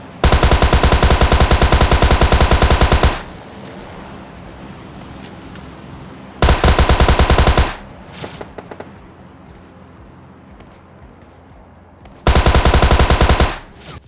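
Bursts of automatic gunfire from the PUBG Lite battle royale game, three loud sustained volleys of rapid shots separated by quieter stretches of faint ambient game noise and scattered single pops.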